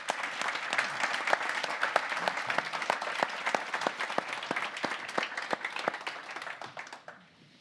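Audience applause after a panel discussion at a policy conference, a dense run of many individual claps, fairly distant and steady, tapering off at the end.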